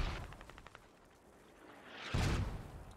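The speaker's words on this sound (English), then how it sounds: "Those are artillery rounds." Artillery rounds firing, a few faint distant thumps early on followed by a single loud, heavy boom near the end that lingers briefly.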